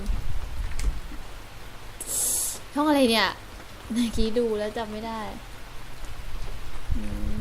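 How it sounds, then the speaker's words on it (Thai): Heavy rain pours steadily in a horror video game, Jack-O'-Lantern, a constant hiss under a person talking, with a brief louder burst partway through. "ฝนตกหนักมากเลย"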